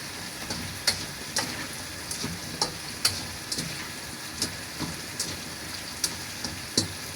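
Vegetables cooking in a covered pan with salt, a soft continuous sizzle with regular faint ticks and pops, quiet and close, no talk.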